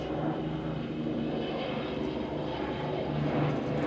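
Four piston engines of an Avro Lancaster bomber drone at an air show, a loud, continuous, rumbling roar with a steady low throb that holds without a break.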